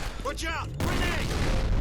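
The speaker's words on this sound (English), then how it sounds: "Watch out! Grenade!" Grenade blast in the shooter game F.E.A.R. Perseus Mandate: a shouted voice, then a loud, broad explosive burst that rolls into a sustained rumbling roar with gunfire-like crackle.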